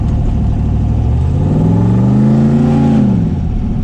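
A truck with a 6.0 L turbo engine, its engine and transmission producing a steady low rumble and a whine that rises and falls in pitch as it pulls, loud and close with no talk.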